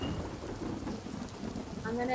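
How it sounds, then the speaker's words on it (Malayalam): Heavy rain pours steadily on Bangalore streets in a dense, continuous hiss, with a faint brief tonal sound near the end. "നല്ല മഴ പെയ്യുന്നുണ്ടല്ലേ"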